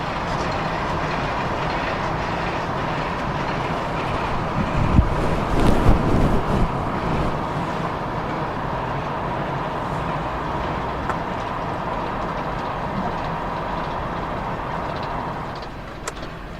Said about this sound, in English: there's this train here that just went by